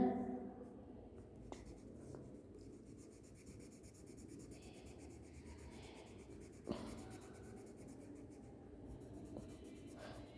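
Pencil scratching and rubbing across paper while drawing bar graph lines against a ruler in a grade 4 maths lesson, a steady faint rasp with a light tap near the middle, no voices.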